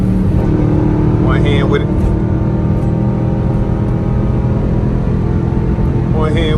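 A 2021 Dodge Durango R/T with a straight-pipe exhaust, driven at night, drones loudly and steadily as the paddle shifter downshifts. People talk over the engine throughout.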